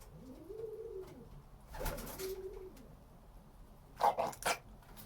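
A young pigeon being hand-fed gives a couple of soft, rising-and-falling coos, followed by brief bursts of fluttering and rustling close by.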